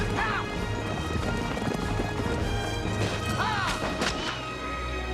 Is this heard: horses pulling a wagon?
yes